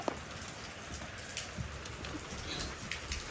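Heavy rain pouring steadily in a yard where livestock and hens are kept: a dense, even roar of drops on surfaces, with a few sharper close splats and a faint bird call, with no voices.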